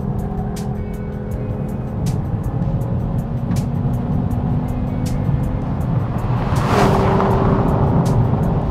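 An Audi RS3 with a DSG gearbox accelerates hard on a flying lap, its engine drone loud and steady throughout from inside the car, swelling briefly near the end with a rushing burst.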